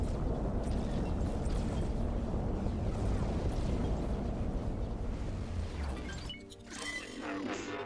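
Turret fire and explosions in the space game X4, heard as a dense, loud, continuous barrage of booms and crashes that thins out briefly near the end before building again.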